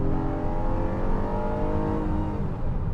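A 2021 Honda Odyssey V6 launches hard from a torque-brake start, its engine roaring loudly and steadily climbing in pitch as it accelerates through the gear, heard from inside the cabin.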